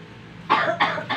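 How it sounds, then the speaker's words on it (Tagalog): A woman coughs three times in quick succession, close and fairly loud, against a faint background hum. "Ubo ng ubo."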